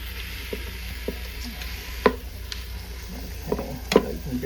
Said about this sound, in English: I'm browning my meat.